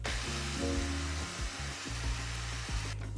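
Food processor blending oats, plant-based protein powder, salt and ground flax seeds, a steady loud whirring roar with shifting low hum that runs throughout and cuts off near the end.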